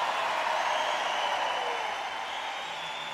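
Concert audience applauding the lead guitarist at a gig in Stockport, a steady, dense wash of clapping and crowd noise that fades slightly toward the end.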